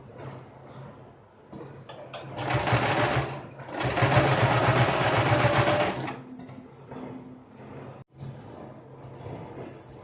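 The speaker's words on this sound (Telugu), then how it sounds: "ఇలా మొత్తము స్టిచ్ చేసేస్తాము." A sewing machine runs close by as it stitches a double-frill designer blouse, in bursts of rapid mechanical whirring, long in the middle and short at the end, with brief pauses and a few handling clicks between runs.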